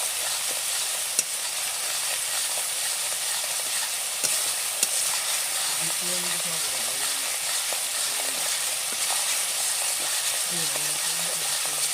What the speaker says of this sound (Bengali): মশলা একটু কষানো হয়ে গেলে আলুটা দিয়ে দেবো, দিয়ে জল দিয়ে দেবো নাড়াচাড়া করে।